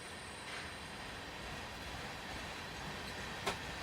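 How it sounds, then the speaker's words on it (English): A heavy freight ballast train in a Train Simulator game propels out of a yard on the Midland Main Line, a steady low rumble of rolling wagons with a couple of faint metallic clanks near the end. "train propelling out there, look. Propelling out of the yard to get going."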